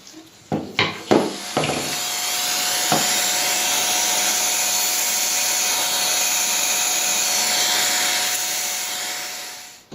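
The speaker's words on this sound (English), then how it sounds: "have a friend or relative ready with a vacuum cleaner with a small nozzle" A vacuum cleaner with a small nozzle starts after a few sharp knocks and then runs as a steady, loud, high-pitched whine with a constant tone, used to clean up while adjusting transfer ports on a Lane regulator.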